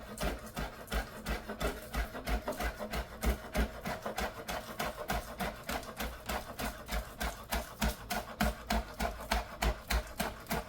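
A knife chops fresh, crisp garden green onions on a board in a steady, fast rhythm of close, even thuds and crunches, continuing without pause and with no talking.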